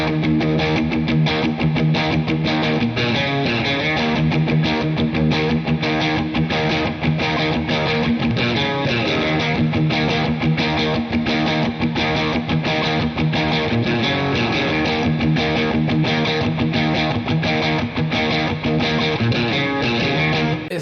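Distorted guitar chords through a Digitech Supernatural Ambient Reverb pedal wash into a long, shimmering plate reverb tail, sustained and full, with no voices.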